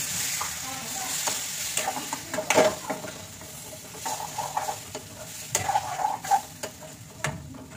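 Potatoes with dried coriander sizzle steadily in a pan for a Bengali dhaniya alur dom, with a close, continuous frying hiss broken by irregular scraping stirs and clinks throughout.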